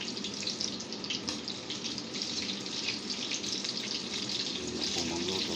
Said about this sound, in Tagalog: Cooking fried beef gyoza.